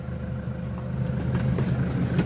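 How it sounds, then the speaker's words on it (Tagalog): A 2020 Toyota HiAce with a 3.0 turbo diesel engine and manual gearbox idles nearby, a steady low rumble that swells slightly toward the end, with no talking. "at napakaganda pa ng timing ng kanyang makina. Tunog Toyota talaga mga boss."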